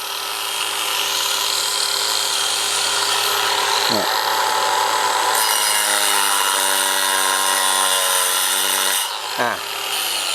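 An angle grinder whines steadily and loudly while cutting, its pitch shifting slightly as the blade bites, with no pauses throughout.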